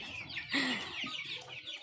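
White chickens on a provincial farm cluck in short, close bursts, one louder call rising above a continuous murmur of flock noise.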